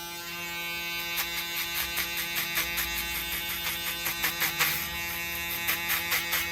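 FX3 hair clippers buzz loudly and steadily during a mid fade haircut, with a rhythmic pulsing as the blades pass through hair in short repeated strokes.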